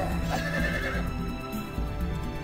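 Horse neighing in the video game Heroes of Might and Magic 3, a loud whinny with hoof clip-clop against game sounds, no talking.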